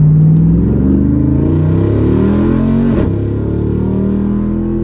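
A Jeep Wrangler Rubicon 392 accelerating hard from a stop, its V8 engine roaring loud and close with rising revs and a gear change partway through, heard from inside the vehicle.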